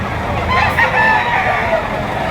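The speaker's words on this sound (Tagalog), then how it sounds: "Tandang manok mga boss." A rooster crows at a busy poultry market in Lipa, Batangas, its call standing out over a steady background hubbub of voices and market noise.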